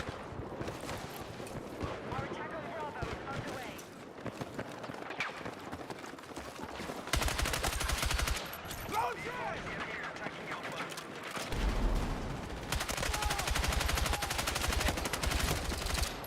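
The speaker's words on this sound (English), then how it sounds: "I'm just firing bullets over in the abyss" Battlefield 6 gunfire crackles in rapid bursts and sustained automatic fire across the stretch, loud and close at times, mixed with game ambience while players talk over it.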